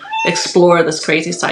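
House cats meow indoors, close and fairly loud, a few short rising calls overlapping with a person talking.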